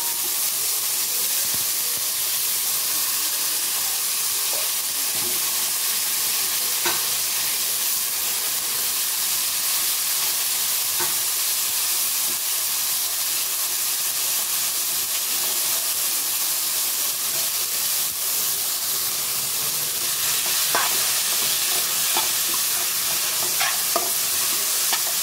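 Raw papaya (amita) fries in a pan, giving a steady, close sizzle and hiss with occasional scraping and stirring clicks throughout.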